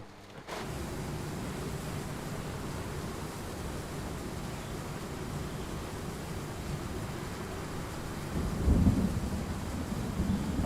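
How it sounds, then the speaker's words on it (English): Low rolling thunder rumbles steadily through a storm in the train simulator Train Sim World 3, a dense broadband roar with a louder swell near the end, no voices present. "I can hear the thunder rolling."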